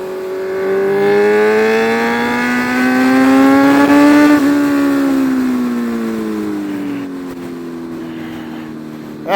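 Heavily modified 2014 Kawasaki Z1000 motorcycle riding on back roads, a loud, close engine drone rising in pitch, peaking, then easing off as it holds speed.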